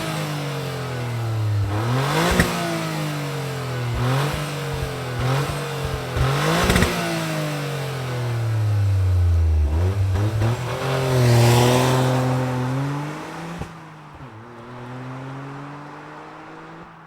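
A 2023 Toyota GR Corolla Circuit Edition engine roars through a run of loud, close revs, pitch climbing and falling in repeated sweeps before cutting off into quieter idle near the end.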